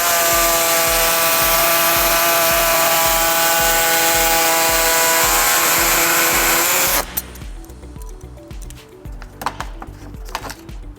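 A power cutting tool trims the plastic air deflector on a 2016 Toyota Highlander rear bumper. A loud, steady whine runs for about seven seconds, then cuts off and leaves quieter scattered handling noises.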